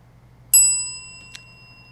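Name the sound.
bell rung by a quiz contestant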